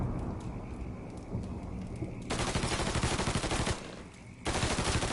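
Rapid automatic gunfire and repeated shots ring out in a Mafia III firefight, dense bursts of fire starting partway through, a brief lull, then resuming with loud, continuous rattling.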